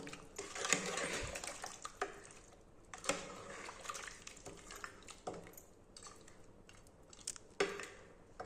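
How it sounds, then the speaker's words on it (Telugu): A spoon stirs washed coriander through country chicken curry in a pot, with soft wet squelches and occasional scrapes against the pan in irregular bursts, close but quiet. "కడిగి పెట్టుకున్న కొత్తిమీర వేసి ఒకసారి కలుపుకుందాం"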